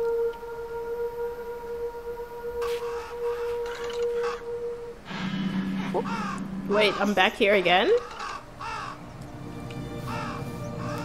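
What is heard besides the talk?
crows cawing in a video game (Happy Game)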